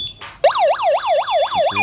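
A VisionUK wireless addressable fire alarm sounder wails loudly up close in a rapid rising and falling sweep, repeating steadily after a brief beep at the start.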